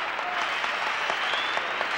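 A crowd applauds a gymnastics floor routine at the 1976 American Cup with steady, dense clapping from a large indoor audience that holds at an even level throughout.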